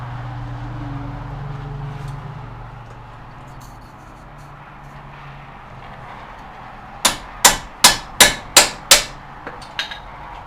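A hammer strikes hard on the tie rod of a 1994 Subaru Legacy Turbo during teardown, about six sharp metallic blows in quick succession and then a lighter tap, all after a stretch of low background hum.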